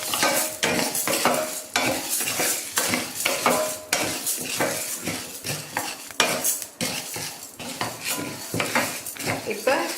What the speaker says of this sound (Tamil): இப்போ உளுத்தம் பருப்பு போட்டு அதை நல்லா செவக்கிற வரையும் வறுத்துக்கணும்